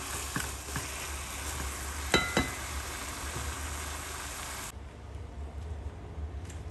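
Meat and moringa flower curry sizzling in a pan as it is stirred, with a steady frying hiss and a few sharp clinks of a spoon against the pan before the sizzle drops away near the end.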